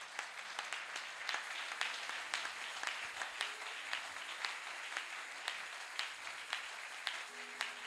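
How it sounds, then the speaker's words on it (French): A church congregation applauds in steady, dense clapping that carries on evenly throughout, heard from a distance at fairly low volume with no voices over it. "J'aimerais que nous acclamons encore le Seigneur"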